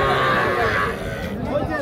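Young heifer calves low at a busy rural cattle market, a loud drawn-out moo standing out first before fading into crowd noise and talk.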